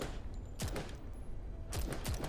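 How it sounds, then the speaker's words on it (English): A short burst of gunfire shot at a door lock in the video game Girls Frontline 2, two clusters of loud, sharp reports separated by a pause, over a steady ambient background. "With a burst of gunfire, the lock is penetrated by the bullets."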